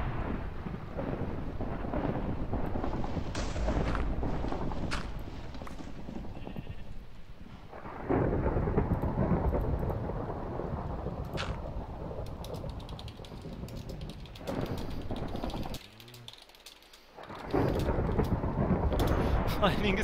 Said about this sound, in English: lightning is striking all around my hole.